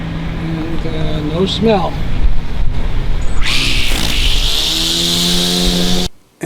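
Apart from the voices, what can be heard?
cordless electric weed whacker running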